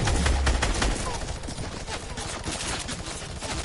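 Rapid gunfire from a shooter video game, a dense, steady stream of shots running throughout, loud and close, with a deep rumble at the start.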